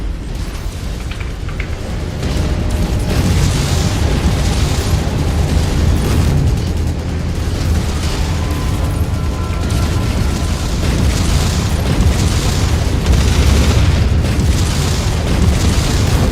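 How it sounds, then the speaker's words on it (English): An enemy mech blowing up in MechWarrior 5: Mercenaries, a loud, deep explosion that bursts in after a quieter opening and then rolls on as a long, heavy rumble with debris and crackling layered through it. "Enemy mech destroyed"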